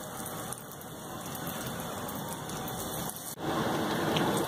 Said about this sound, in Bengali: আমার তেল গরম হয়ে গেছে, এবার আমি এগুলো তেলের মধ্যে ছেড়ে দিচ্ছি।